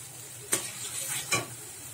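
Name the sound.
spice paste (masala) frying in oil for crab curry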